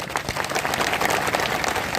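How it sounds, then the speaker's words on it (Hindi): Loud applause from a crowd at a political rally honouring the organisers of a Tantya Bhil event, a brief dense burst of clapping heard steadily and close. "आप उन तमाम आयोजक और नियोजन करने वाले लोगों के लिए जोरदार तालियां बजाएं"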